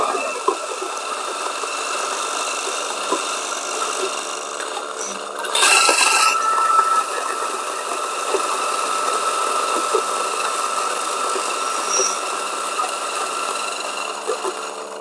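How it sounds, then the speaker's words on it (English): An espresso coffee grinder grinds straight into a portafilter. It gives a steady, loud motor whir that holds for the whole stretch, with a brief harsher surge partway through. "let's grind directly into the portafilter"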